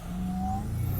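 Toyota truck engine revving through a snorkel, a loud close growl with a rising whine as revs climb, heard alone.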